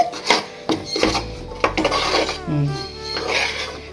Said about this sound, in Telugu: పిండి పోసి తిప్పుతాను